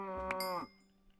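A single drawn-out cow moo from the video game Minecraft, lasting just over half a second and heard alone with a quiet room tone trailing after it.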